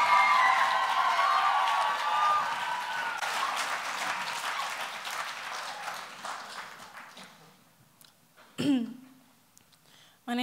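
Audience applause at the Verselandia 2013 poetry slam fills the hall, strong at first then thinning out into scattered claps, with a cough and some throat clearing near the end as the crowd settles.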